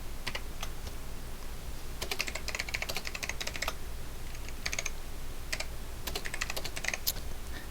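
Clattering keystrokes on a computer keyboard in quick uneven bursts, fairly close, with brief pauses between runs of typing and no talking.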